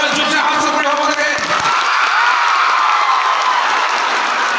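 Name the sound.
audience applause at award ceremony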